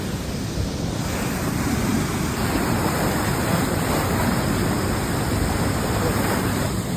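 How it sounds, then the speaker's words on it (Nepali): Fast, forceful water of the Bijipur stream rushes in a dense, steady roar, loud and close throughout with no voices. "अहिले हेर्नु है यस्तो खतरनाक फोर्स पानी"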